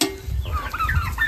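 Chickens on a farm cluck and call close by near an outdoor cooking spot, a few short chirpy clucks over a low background rumble.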